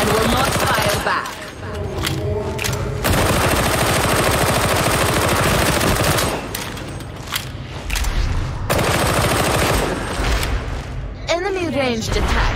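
Gunfire in Warhammer 40,000: Darktide, loud bursts of rapid automatic shots and single cracks in repeated volleys, broken by brief pauses, with talk and game effects underneath.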